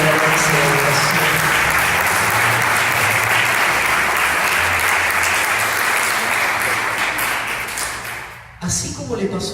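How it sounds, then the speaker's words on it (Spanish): A church congregation applauding the Lord during a worship service, loud sustained clapping from many hands that fades out near the end before a brief clatter. "Se le van a dar un aplauso al Señor"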